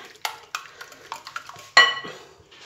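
Whisk or spoon stirring three eggs and a packet of baking powder into cooled chocolate cake batter, a handful of close scraping clinks against a bowl in uneven strokes, with one louder knock near the end.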